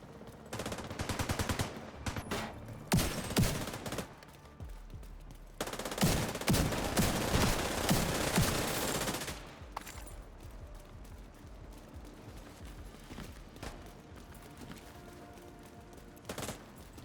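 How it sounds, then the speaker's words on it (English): FAMAS assault rifle gunfire in a shooter game comes in sharp automatic bursts, loudest near the start and in a long sustained stretch midway, then trailing off into quieter scattered shots and ambience; no one talks. "Let's see how often I run out of ammo with this FAMAS"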